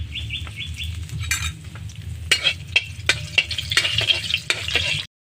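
Dried red chillies and cumin seeds sizzle in hot oil in a wok-style pan, a soft steady fry under sharp, irregular metallic scrapes and taps of a spatula stirring close by, with no talk.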